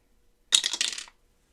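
An eight-sided plastic die is rolled for a crochet game, clattering and tumbling across a hard surface in one quick burst of bright rattling clicks that lasts about half a second, then stops, leaving silence.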